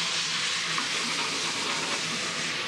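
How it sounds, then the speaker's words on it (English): Shallots sizzle and caramelize in a pan with a steady, close frying hiss and light crackle, holding an even level throughout with no talking. "As the shallot starts to caramelize,"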